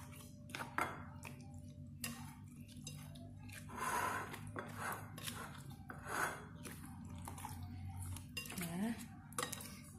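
Spices being stirred into fish in a pot for Acehnese asam keueung grouper, with quiet irregular clinks and scrapes of a utensil against the pot and soft wet squishing, faint and close, with a low background hum.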